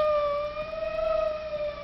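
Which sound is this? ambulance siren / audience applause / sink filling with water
ambulance siren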